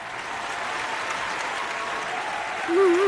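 A crowd applauds at a stage award event, with steady, dense clapping that continues throughout and swells slightly at the end.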